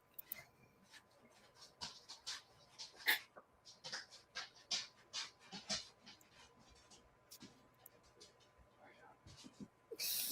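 Dogs panting indoors in a quiet room, with quick breathy puffs close by and a few small whimpers scattered throughout.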